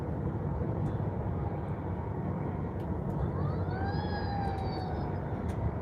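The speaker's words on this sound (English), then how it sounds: "Is that a siren? Yeah." A siren wails faintly in the distance while driving on a highway toward Knoxville, rising and sliding in pitch above loud, steady road and engine rumble, with no talking.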